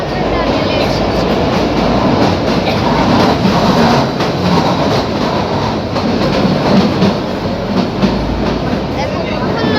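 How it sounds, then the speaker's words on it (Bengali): The Shimla toy train rolls through a tunnel with a loud, continuous enclosed rumble and steady rattling of wheels on track, filling the space with dense roar for the whole stretch. "তারপর আমরা সবাই টয় ট্রেন ধরেছি।"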